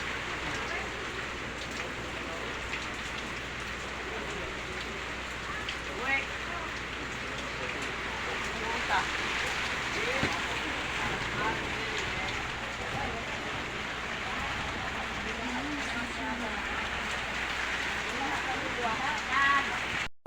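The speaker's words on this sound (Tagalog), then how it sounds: "Ulan." Steady rain from a typhoon patters and hisses on a surface, with scattered drips and faint background voices mixed in throughout.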